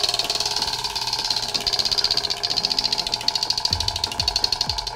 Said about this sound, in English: let's go ahead and spin this first wheel